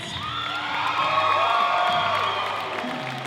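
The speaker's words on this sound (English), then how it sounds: "Give him a big round of applause." A magic show crowd cheers and whoops for a volunteer, with loud sustained shouting and high voices swelling in the middle and clapping mixed in before it fades.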